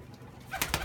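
Domestic pigeons in a loft cooing, a couple of short soft coos near the end of a quiet moment, close by with low background hum.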